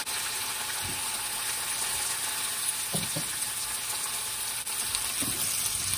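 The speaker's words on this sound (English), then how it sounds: "It's time to put in the sweet potatoes." Sweet potatoes sautéing in a pan, a steady close sizzle and crackle with a few soft stirring knocks and scrapes, quiet and alone.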